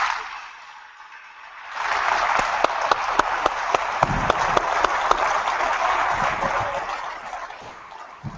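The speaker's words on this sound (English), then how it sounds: "let's give a big round of applause and wish farewell" Audience applause at a Liberal Democrat conference rally, starting after a quiet moment and swelling into loud, sustained clapping from a large crowd with some sharper individual claps standing out.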